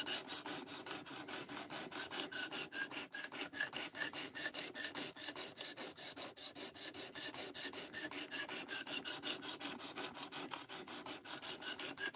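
Metal is ground by hand on a small 4-inch by 1/2-inch sharpening stone in quick, even rasping strokes, dozens of regular back-and-forth scrapes, close and fairly quiet with no voices.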